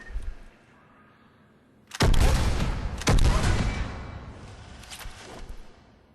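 In Mass Effect 3, a Graal Spike Thrower fired from the hip at mid-range gives two heavy, booming shots about a second apart, each followed by a rumbling tail, after a quiet lead-in.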